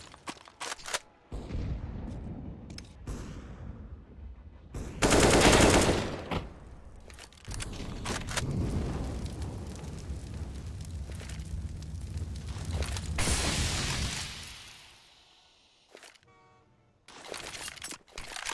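Rapid bursts of automatic gunfire and loud blasts during a Counter-Strike esports match, continuous and dense for most of the stretch, then briefly dropping away before a few sharp closing shots.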